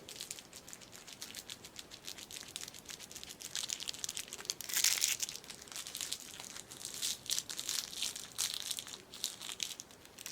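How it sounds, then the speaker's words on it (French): Paper crinkled and crushed close to the microphone in an ASMR cranial nerve exam roleplay, a continuous dense crackling with a brief louder crunch midway, no talking. "Alors, petit bruit de papier."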